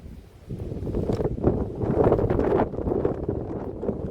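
Wind gusts buffet an outdoor microphone at night, producing a low, rumbling roar that swells and fades in uneven bursts, with no one talking.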